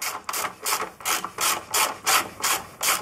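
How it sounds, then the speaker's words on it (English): Ratchet undoing the last swinging arm bolt on a BMW R1100RT motorcycle, with about nine rhythmic, evenly spaced ratcheting strokes, loud and close, with no talking. "Undo the last bolt."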